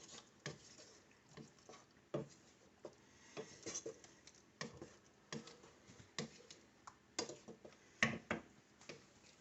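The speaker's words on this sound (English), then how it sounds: "Just gonna keep stirring until it's nice and melted." A spoon stirs applesauce melting in a pot, giving faint, irregular clinks and taps against the pot with soft scraping between them.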